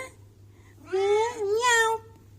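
A pet cat named Timmy gives one drawn-out, wavering meow lasting about a second, close and clear against a quiet room hum.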